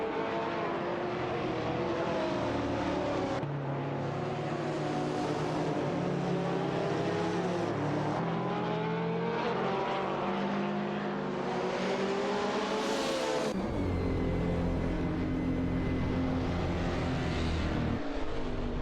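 Race cars in a racing video game fight for position through a series of turns. Continuous engine whines rise and fall in pitch with gear shifts, close and loud, with no talk.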